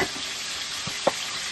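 Fish fries in oil in a pan, crackling and sizzling with a steady hiss and a couple of brief pops.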